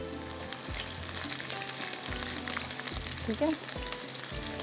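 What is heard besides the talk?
onion frying and browning in a pan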